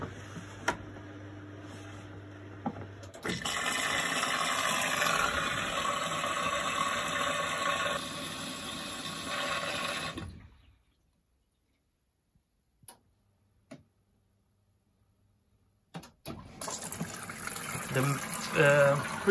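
A washing machine fills with water for the pre-wash, a steady rushing flow for several seconds that cuts off into silence, broken by a few light clicks before the noise resumes.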